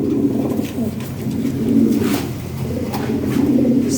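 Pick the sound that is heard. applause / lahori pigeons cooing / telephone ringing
lahori pigeons cooing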